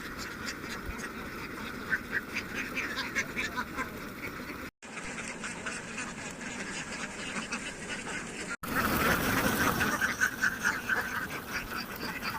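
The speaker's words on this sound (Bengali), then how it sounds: "দেখতে পাচ্ছেন সব হাঁস বের হয়ে যাচ্ছে একদম একসাথে সব" A flock of ducks on a Bangladeshi duck farm in Manikganj pours out of their shed together, a dense, continuous chorus of quacking that stays loud throughout, with brief dropouts in the sound.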